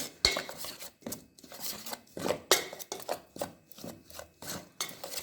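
Chicken pieces being mixed by hand or spoon with homemade garam masala in a bowl, a series of close wet clacks and scrapes repeating in an uneven rhythm, quiet and alone.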